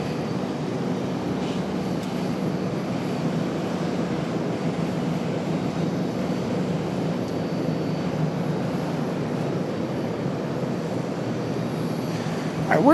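A Boeing 777 airliner taxiing out at Charlotte airport produces a continuous low engine rumble and whine at moderate distance, unchanging for many seconds and swelling slightly at the very end.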